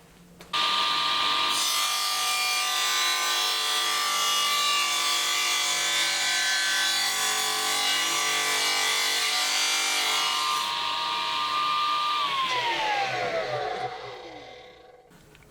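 Power tool cutting a slot in wood for cupboard doors, a loud sustained whirring grind starting abruptly and holding steady for about eleven seconds before the motor spins down.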